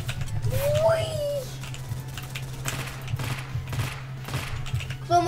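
Gunfire in the Roblox shooter Ragdoll Universe: scattered sharp shots crackle through a busy game mix, with a brief whistling tone early on and more shots near the end, at moderate loudness.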